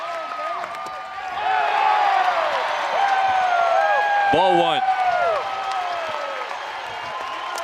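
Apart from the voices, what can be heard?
big baseball crowd on its feet cheering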